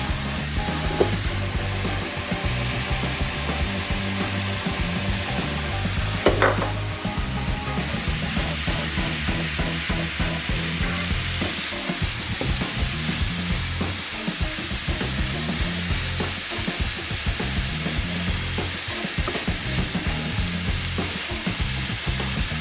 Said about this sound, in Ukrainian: Це ми чуть-чуть піджарюємо, а потім додаємо солодкий перець.